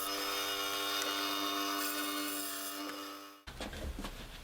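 A small bandsaw cutting wood to clean up inside corners, with a steady, close motor whine and blade hum that fades out, followed by softer knocking and handling noise once it stops.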